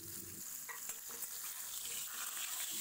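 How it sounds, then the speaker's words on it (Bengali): Pointed gourd (potol) fries in mustard oil seasoned with salt and turmeric, producing a soft, steady sizzle with a few quick stirring clinks, close but fairly quiet and brief. "ধুয়ে রাখা পটলগুলো এর মধ্যে দিয়ে হালকা করে ভেজে নেব"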